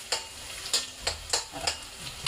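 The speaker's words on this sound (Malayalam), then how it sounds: "ഈ ഉള്ളിയും കൂടി ഇട്ട് പെരട്ടി എടുക്കും" Chicken and onions are stir-fried in a pan, a close sizzle punctuated by brisk, rhythmic spatula scrapes about every third of a second, with no voices.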